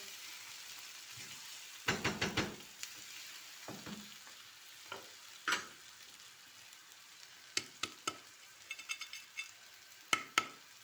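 Onion and tomato paste frying in a pan, probably on a wood stove, give a steady hiss, broken by sharp clinks and scrapes of stirring. The knocks come in irregular bursts and are heard close up, with no talking.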